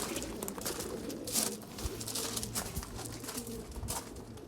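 Racing pigeon widowhood cocks cooing in a loft, a steady chorus of low, overlapping coos close by, with fluttering and rustling throughout and no talk.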